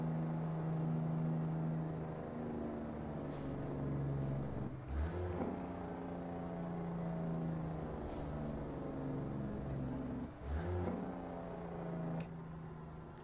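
A heavy truck engine in American Truck Simulator drones steadily, with the deep rattling bark of a Jake engine brake cutting in twice, its pitch dropping sharply each time.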